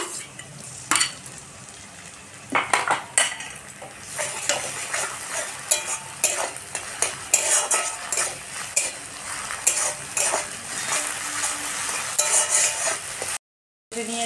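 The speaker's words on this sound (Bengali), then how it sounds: "তো এর মধ্যে আমি আদা রসুন বাটা দিয়ে দেব।" Ginger garlic paste frying in a pan with cauliflower and potatoes, continuous close sizzling with frequent spoon scrapes and light clinks against the pan, and no voices.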